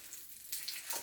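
Abalone frying in a pan, a soft, fairly faint sizzle that swells in brief bright bursts of hissing spatter.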